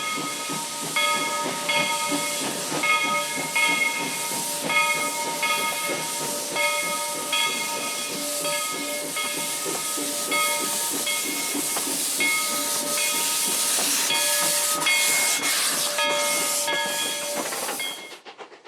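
Rio Grande 315 steam locomotive hissing loudly and steadily, a broad, close rush of escaping steam with ringing whistle-like tones and rhythmic chuffs running underneath, ending abruptly.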